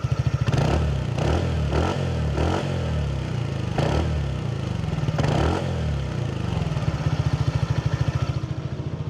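A TVS Ntorq 150 scooter engine is revved several times in short bursts, rising and falling over a steady idling putter, loud and close.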